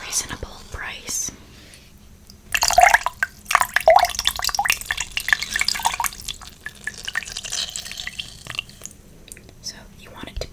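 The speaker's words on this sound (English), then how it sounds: "I'm gonna dampen my beauty blender with a little bit of water." Wet squishing and dripping as a makeup beauty sponge is soaked and squeezed with water, close and intimate, with soft whispering at the start.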